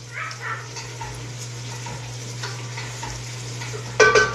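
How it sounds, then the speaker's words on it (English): Food in a crock pot is stirred with a spoon, producing soft scraping and light clinks over a steady low hum, with a louder clatter near the end and no talking. "Let me stir this up real quick."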